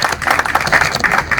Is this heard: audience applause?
yes